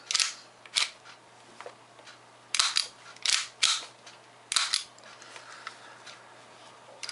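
Sharp metallic clacks from a WE Makarov airsoft pistol as its slide is pulled back and released, several separate close, crisp clicks spread over a few seconds in a quiet room.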